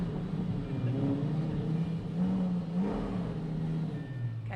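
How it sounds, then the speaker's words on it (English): A car's engine revs repeatedly up and down, a throaty mid-range roar with rising and falling pitch sweeps, close and loud, with no talk over it. "Rev it? Okay, here we go."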